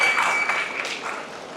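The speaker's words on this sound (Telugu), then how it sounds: "ఒకసారి గట్టిగా చప్పట్లు కొట్టండి." A crowd applauds at a community association launch event in Malaysia, a soft wash of clapping that starts fuller and slowly thins out, heard at a distance in a large hall.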